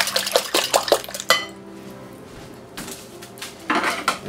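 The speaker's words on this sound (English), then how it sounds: "And I'm going to add 3 eggs. Mix those in very quickly." Eggs being beaten quickly into a yeast dough for butterhorn rolls, with clinking utensil strikes against a bowl in brisk bursts at the start and end and a quieter stretch between.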